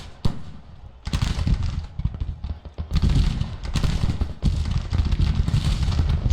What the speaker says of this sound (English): See the artillery plugging away.